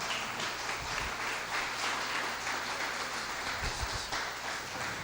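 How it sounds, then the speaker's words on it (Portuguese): A church congregation applauds for a Mother's Day service, a dense, steady wash of many hands clapping at moderate distance. "Vamos aplaudir o Senhor."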